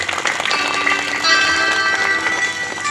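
Applause from a gathered audience at a welcoming ceremony with garlands offered, a dense steady patter of many hands clapping, fairly loud and continuous with no pause.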